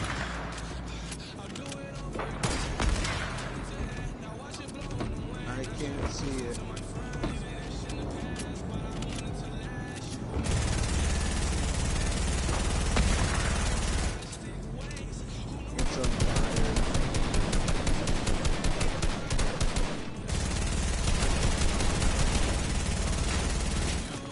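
Automatic gunfire in Fortnite during a strafe run on a vehicle, bursts rattling through dense game sound and engine noise, with voices talking over it.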